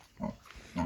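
A pig on a Nepali farm gives two short, low grunts a fraction of a second apart, close by and fairly soft, with quiet background between them.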